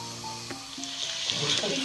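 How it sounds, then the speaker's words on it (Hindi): Garlic and whole dried red chillies fry in hot oil for kadhi pakora, a steady close sizzle with a brief crackling burst as the ingredients hit the pan, building slightly louder toward the end. "और अब जाएगा इसमें लहसुन और ये लाल साबुत मिर्च, ये भी साथ साथ फ्राई हो जाएगी"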